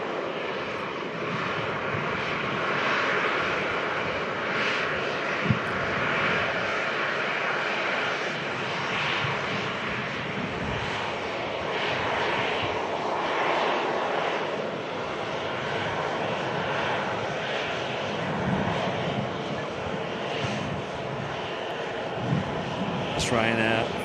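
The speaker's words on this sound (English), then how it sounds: "got a Virgin Atlantic A330 on the move as well. About to cross runway 23 right." Virgin Atlantic Airbus A330 with split scimitar winglets taxiing at Manchester Airport, about to cross runway 23 right, a steady continuous engine roar at moderate distance with a person talking over it.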